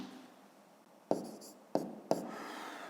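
Chalk or marker strokes writing numbers on a board during a fifth-grade maths lesson, three sharp separate taps and scrapes spaced across a quiet room.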